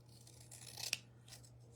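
Scissors cut through card at an angle in a single quiet snip with a short papery rasp, faint and close, over a steady low hum.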